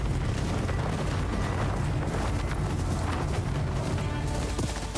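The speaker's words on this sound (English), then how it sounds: "Okay, so they're AoE explosions." Area-of-effect explosions in the video game Ghost of Yotei, a dense continuous roar of booms and crackling blasts filling all five seconds, loud and close with no voices over it.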